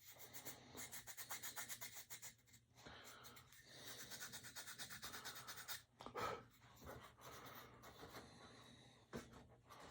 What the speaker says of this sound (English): so I'm sanding the corners a little bit because there's actually CA in there